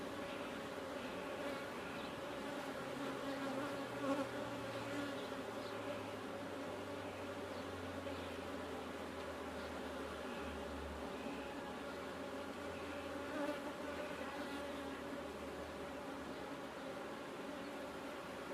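Honeybees buzzing in an opened hive full of larvae and brood, a dense continuous hum holding steady and close, with a low rumble drifting underneath and no speech.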